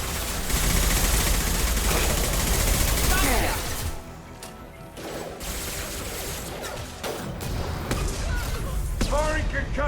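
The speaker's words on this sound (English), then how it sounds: "Firing concussive shot." Heavy gunfire and concussive blasts in the video game Mass Effect 2 pound loudly in dense bursts, easing briefly before sharp impacts and rapid shots return, with voices talking over the combat.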